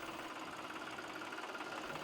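A tractor pulling a trolley runs at an unguarded rail level crossing, its engine a continuous, even mid-pitched drone with a fine rapid rattle, steady and fairly faint throughout, with no talking.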